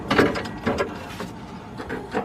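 A vent hose is pushed onto the fuel tank vapor vent check valve of a 1995-2000 Ford Explorer until it snaps into place. A few close, hard plastic clicks and knocks come in quick succession, with no voices.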